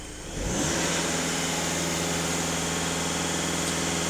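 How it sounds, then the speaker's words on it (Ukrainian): A VW Caddy Maxi 2.0 TDI diesel engine revs at full throttle, rising from idle into a steady, loud, sustained drone held to the end, with no talking. "даю газ в пол"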